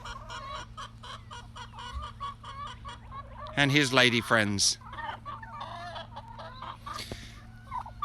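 Hens cluck and a turkey gobbles loudly nearby outdoors, with a burst of gobbling in the middle and someone speaking briefly over the birds.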